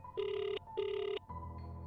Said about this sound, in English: suddenly A-san's phone rang